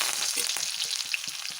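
Onions and curry leaves frying in oil with mustard seeds in a deep kadai for a Kerala banana stem stir-fry, giving a steady close sizzle with rapid crackles and small pops throughout.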